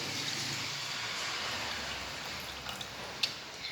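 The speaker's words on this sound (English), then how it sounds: "Now I will pour all the liquids one by one in a transparent glass." Water is poured into a transparent glass, a steady, close hiss of flowing liquid that runs evenly, with a couple of faint drips or clinks near the end and no speech.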